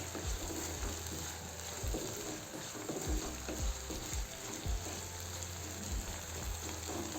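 Chopped onions frying in a pan while being stirred into garlic-ginger paste: a steady sizzle runs throughout, broken by repeated scraping knocks of the spoon.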